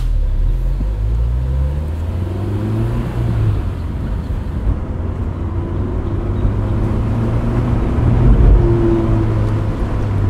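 A 2001 Honda S2000 holds about 4,000 RPM while driving slowly with a slight drivetrain vibration, its engine a loud, steady, droning hum whose pitch climbs and sags gently across the run.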